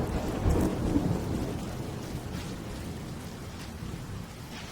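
Steady rain falls through the city in the video game Vaudeville while a low rumble of thunder rolls near the start and then fades, leaving an even, continuous hiss of rainfall with no voices.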